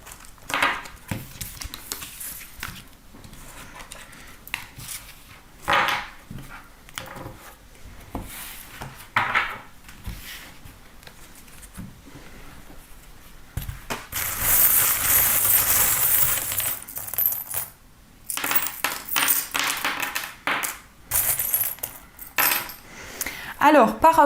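Small metal charms jangle and clink as hands sort them, in scattered bursts of bright tinkling, with a longer, louder clatter partway through.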